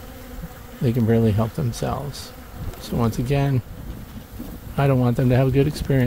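Bees buzzing around a weak honeybee hive fitted with a robbing screen, a yellow jacket nearby, the insect hum running throughout beneath someone talking closely over it.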